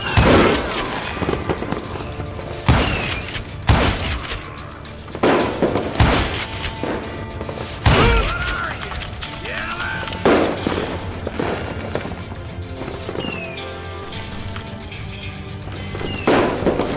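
Rapid gunfire rings out in a Wild West saloon shootout in Call of Juarez: Gunslinger, loud bursts and sharp single shots repeating over about seventeen seconds with brief pauses between volleys.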